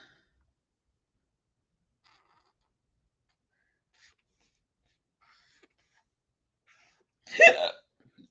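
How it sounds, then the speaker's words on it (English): A single short burst of hiccups, close and fairly loud, in an otherwise near-silent room. "Hiccups."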